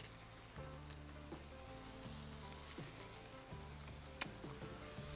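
Burgers sizzle on a Cuisinart griddle, a steady faint hiss and crackle with occasional soft scrapes and pops, heard alone without any talk.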